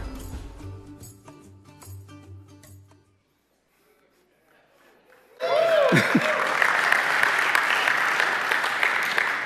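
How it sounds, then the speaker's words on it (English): Applause from a church congregation during a sermon bursts in midway and fills the rest of the clip with dense, steady clapping, following a stretch of organ-like tones and then near silence. "You clap now."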